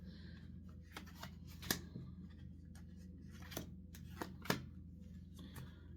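Tarot cards being handled and drawn one by one for a weekly reading, close and quiet, with sporadic crisp card snaps and slides and no talking.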